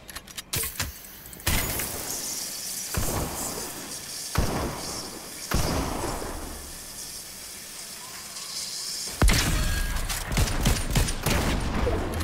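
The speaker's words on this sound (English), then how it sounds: "Never mind, we hear gunshots." Bursts of gunfire ring out in a Fortnite match, loud overlapping volleys and clattering shots arriving in waves with short pauses between them, and no talk over them.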